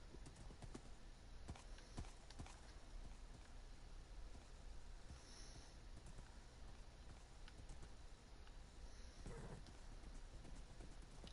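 Faint, quick horse hoofbeats in Minecraft clip-clop steadily under a low background rumble, with no voices.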